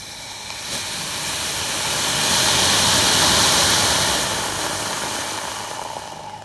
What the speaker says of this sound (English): Homemade rocket engine.